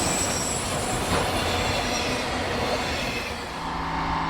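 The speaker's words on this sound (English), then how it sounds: "Our first train of the day was a true Hunter Harrison special, with one locomotive up front" A freight train with one locomotive, mixed cars, auto racks and a mid-train DPU rolls past close by, a loud continuous rumble of wheels and rail noise with squealing overtones and faint clickety-clack, no voices.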